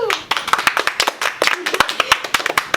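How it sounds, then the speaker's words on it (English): Podcast hosts clap for themselves in a small studio group, a run of close, sharp hand claps at an uneven quick pace. "Applaud ourselves."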